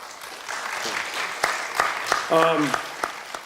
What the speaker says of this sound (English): Please give yourself and Johnny a big round of applause.